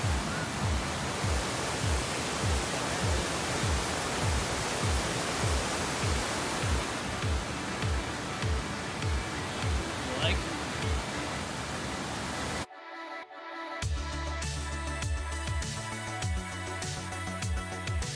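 Broad, steady rushing of a waterfall on a hiking trail near Ironwood in Michigan's Upper Peninsula, with regular low thumps running beneath it, then an abrupt cut to a different, busier roar near the end.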